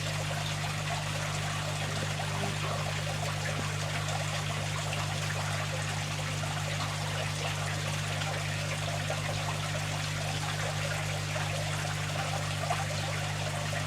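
Water carrying new shrimp tipped slowly back into a Matten filter aquarium, a steady close pouring and trickling that runs without a break over a constant low hum.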